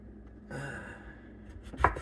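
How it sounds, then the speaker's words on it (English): A knife dices tomato for pico de gallo on a cutting board, with a soft scraping stretch and then a single sharp chop near the end. "I'm just going to dice tomato"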